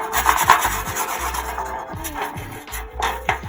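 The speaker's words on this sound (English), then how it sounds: "Let's give it a wax." A bar of skate wax is rubbed back and forth onto a rough, crusty street ledge, producing a loud, close, rhythmic scraping in repeated short strokes.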